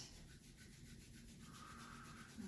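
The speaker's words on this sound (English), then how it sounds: "bring the palms together. Start to rub them together, creating lots of heat." Palms rub together quickly in a steady, continuous dry swishing friction that runs throughout at a close, even level, with no talking.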